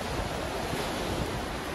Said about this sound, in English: over on that side, the wind and the waves are hammering